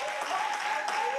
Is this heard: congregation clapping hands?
yes